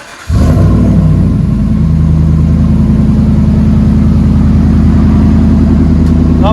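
A RAM 1500 pickup with a 5.7L HEMI V8 and Flowmaster Flow FX exhaust starts up abruptly, then holds a loud, steady, deep rumbling drone close by with a rough pulsing burble throughout.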